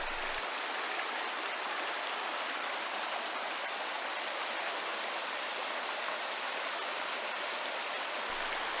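A mountain valley stream rushes steadily near a footbridge on a forested trail. The wash of water is broad and continuous, like close rain or a small waterfall, with no voices.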